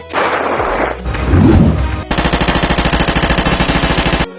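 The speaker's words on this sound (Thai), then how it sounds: "หยุดยิง" Loud gunfire effects in a Thai manga dub: a sustained noisy blast, a rumbling burst, then a rapid machine-gun rattle of evenly spaced shots running for about two seconds.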